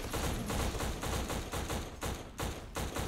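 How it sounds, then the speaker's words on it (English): Sustained rapid gunfire from teammates in the shooter game Black, a loud continuous stream of overlapping shots and bursts with a steady rhythmic pulse, close and dense throughout. "My teammates are like shooting at something."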